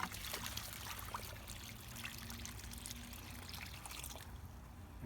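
The remainder of a bucket of water is poured onto a freshly planted bare-root fruit tree, making a steady close splashing pour that runs continuously and eases off near the end.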